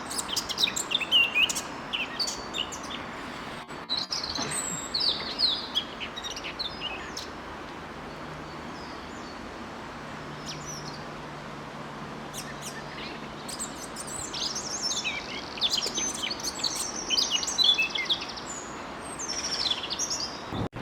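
A male Eurasian blackcap sings in bursts of bright, fluty warbling phrases outdoors among other faint bird chirps, with a quieter stretch in the middle before the song returns.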